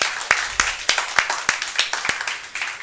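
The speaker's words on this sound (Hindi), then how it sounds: "ताली बजाइए अपने लिए।" An audience at a motivational talk claps in sparse, uneven bursts, about ten distinct sharp hand claps spread over a few seconds, fairly close and loud, with no one speaking.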